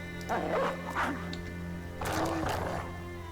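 Barking from a dog in a turn-based combat video game, two short bursts of yapping around a second apart, then a louder second pair after a pause, set over a steady game soundtrack hum.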